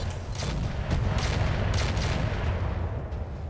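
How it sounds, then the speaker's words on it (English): A mech fires LRM and SRM missiles in a MechWarrior game, producing a dense, continuous rumble of launches and booms with rhythmic bursts, loud and close throughout. "LRMs, now try SRMs for the greater accuracy, and let it rip."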